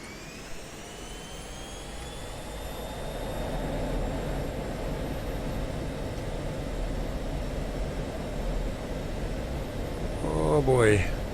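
F-16C fighter jet roaring steadily on takeoff in a flight simulator, a continuous loud engine rumble with a rising whine, swelling near the end.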